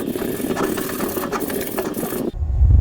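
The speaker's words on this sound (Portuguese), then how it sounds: "Na hora de lixar, dê preferência para lixar tudo na mesma direção." Rapid rough scraping strokes of sandpaper hand-sanding a plastic water jug, repeated back and forth in one direction, then cut off by a low rumbling thump.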